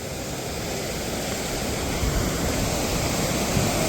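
Savatsada waterfall near Chiplun in the Konkan region, water pouring in a steady, loud, continuous roar that fills the whole clip with no voices.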